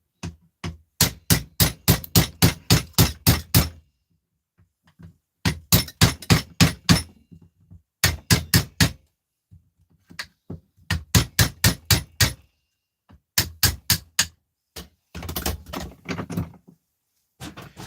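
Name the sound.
hammering an object to cut its top off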